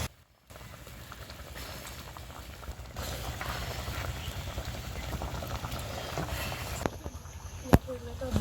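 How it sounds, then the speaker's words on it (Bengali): Curry gravy boils in a covered pot in a village kitchen, a close, steady bubbling and rumble that builds slightly, broken by a sharp clink near the end. "ঝোলটা ফুটে গেছে, এখন ডিম পিসগুলো দিয়ে দেবো।"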